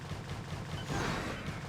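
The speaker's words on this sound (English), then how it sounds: "yeah, that was a brutal explosion." A brutal explosion in the video game Cosmonarchy erupts as a dense, crackling burst of rumbling blasts that swells near the middle of the short moment, loud and close, with no talking.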